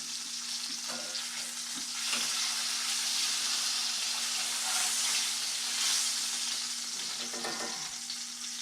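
Boneless country style beef ribs sear in a hot pan, giving a steady, close, crackling sizzle that swells and eases slightly throughout.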